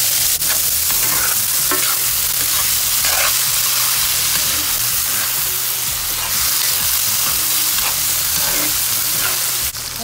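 Onion and green onion sizzle and fry in a pan with oyster mushrooms, a loud, steady crackling hiss throughout with occasional stirring scrapes, no voices.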